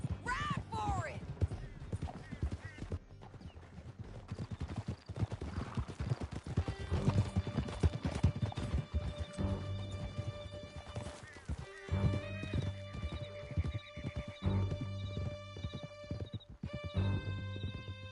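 Horses gallop hard through a canyon in Red Dead Redemption 2, with rapid clip-clop hoofbeats, whinnies and a thick music score over the whole run.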